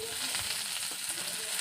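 Fish head going into a pan of frying onions and green chillies, with a continuous soft sizzle and light stirring close by; no voices.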